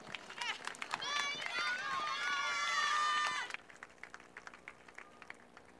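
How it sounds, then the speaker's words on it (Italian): An audience applauds at an evening dance recital in Punta Secca, with steady clapping rising under a speaker's voice. The applause fades after a few seconds, leaving scattered claps and background noise. "Un applauso per favore."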